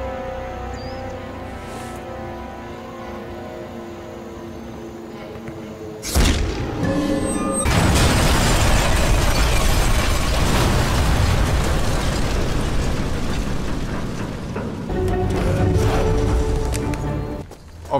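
A Panzerschreck rocket explodes in the World War II shooter Sniper Elite 3, fired from an infantry barracks rooftop at an artillery position: a heavy, loud blast that gives way to a long, sustained roaring rumble.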